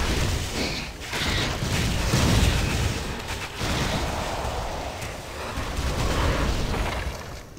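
Loud, heavy explosions in the video game Torchlight II rumble and boom one after another, blending into a continuous roar with deep bass and crackling debris.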